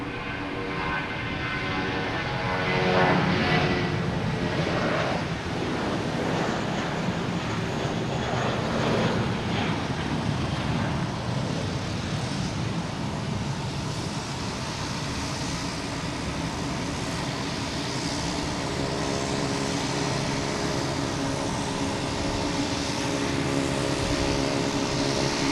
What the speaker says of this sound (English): There's a JetBlue A320.